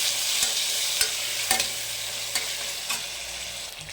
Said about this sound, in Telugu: టమాటా వేస్తున్నానండి